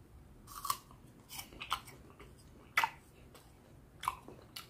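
Crunchy sliced apples being bitten and chewed, with sharp crisp crunches at irregular intervals, close and fairly quiet, and no talking.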